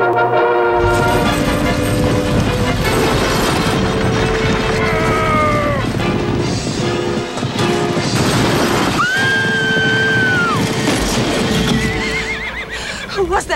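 Horses whinny loudly and repeatedly over clattering hooves and crashing action in a 1992 Energizer commercial, with long rising and falling neighs near the middle and dramatic music and effects underneath.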